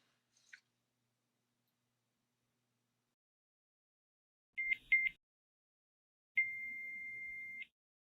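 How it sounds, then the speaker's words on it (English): A Nano CIC hearing aid switching off gives a short double beep followed by one long steady beep, faint and isolated in near silence. "The hearing aid will beep for the last program used, 1 beep for program 1, 2 beeps for program 2, etc.,"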